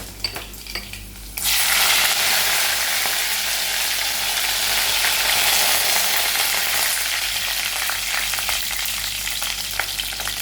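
Chopped garlic, ginger and curry leaves dropped into hot oil, bursting into a loud, dense sizzle after a quiet start, then crackling steadily with occasional utensil clinks against the pan.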